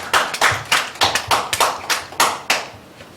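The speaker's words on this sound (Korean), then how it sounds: "우리에게 은혜 주신 하나님께 영광의 박수 올려드리겠습니다." A church congregation clapping in unison during a Sunday worship service, about ten sharp rhythmic claps at an even beat, fairly loud and close, with no talk over them.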